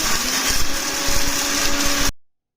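A mixer grinder grinding rice, urad dal and poha runs with a loud, steady whirring motor and rattling jar, then cuts off abruptly into silence.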